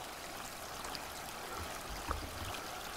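Water flows far below a steep drop on the Sunshine Coast, a faint, steady rushing wash with no voices, soft and distant throughout.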